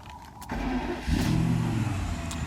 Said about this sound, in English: So let's just start it up.